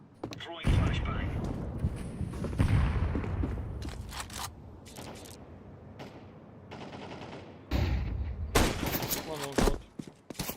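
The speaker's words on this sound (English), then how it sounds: "Throwing flashbang." In Counter-Strike 2 gameplay, a flashbang grenade is thrown amid bursts of gunfire and sharp bangs, loud and close with quieter gaps between them, while a voice talks over parts of it.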